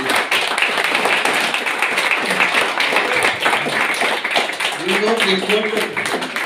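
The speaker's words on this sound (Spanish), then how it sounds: "Den un fuerte aplauso por sus vidas" Church congregation at a Sunday service applauding strongly, a dense, continuous wash of clapping that runs throughout, with a voice speaking over it near the end.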